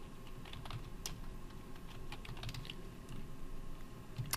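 Rapid, steady keystrokes on a computer keyboard as a word is entered into code, close and clear with no talking over a faint background hum.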